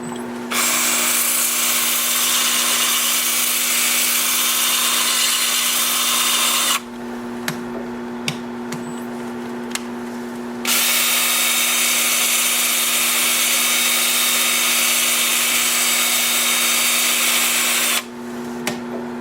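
A loud, steady whir of 100-grit sandpaper on wood spinning on a lathe, running continuously, pausing for a few seconds midway with faint clicks, then resuming.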